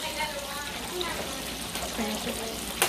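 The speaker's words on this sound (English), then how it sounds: "So we're going to pour it over the fish." Spicy escovitch sauce with vinegar is poured over Jamaican fried fish, a soft close trickling and splashing under faint kitchen talk, ending with a short clatter.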